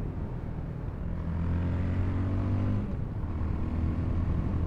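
Fantic Caballero 500 scrambler motorcycle being ridden, its engine note rising and falling through revs with a low rumbling drone, steady and close, no voices.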